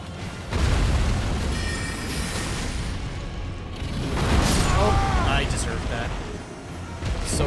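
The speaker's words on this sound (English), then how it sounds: "He's gonna strafe us with fire." A dragon strafes the ground with fire in Elden Ring, producing a loud, sustained roaring rush of flame with a deep rumbling body and swelling bursts, while a voice talks over it.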